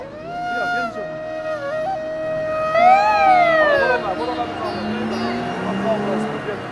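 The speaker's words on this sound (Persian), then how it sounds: "آمبولانس اومد" A loud wailing ambulance siren rises and falls in pitch nearby, with several tones overlapping and people talking underneath.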